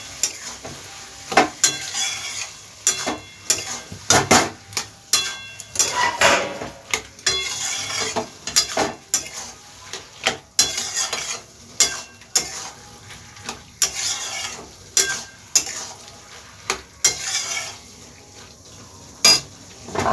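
Bottle gourd curry with ground spice paste being sautéed and stirred in a pan, a steady run of spatula scrapes and clinks against the metal over a low sizzle, close and fairly loud with no talking.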